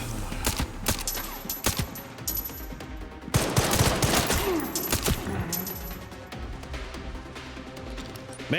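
Gunfire in the Resident Evil Requiem video game: repeated bursts of shots crackle through the whole stretch over a busy game soundscape, heaviest in the middle, with no talk.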